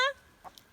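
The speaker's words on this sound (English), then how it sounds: "Tina turned out to be a rooster." A pet rooster named Tina gives a brief, loud honking call at the very start, followed by a couple of faint, soft clucks.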